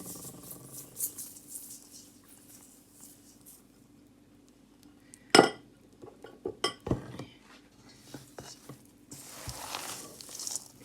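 Chana dal panjeeri ingredients, sugar and ground nuts, mixed in a pan with a spoon, giving a sharp clink and a few scattered scraping and tapping sounds over quiet background.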